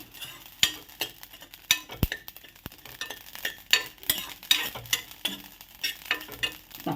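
Ingredients for a bajji mirchi chili pickle are stirred and roasted in a pan, a spatula scraping and knocking in quick irregular strokes over a soft, steady sizzle, close and fairly loud.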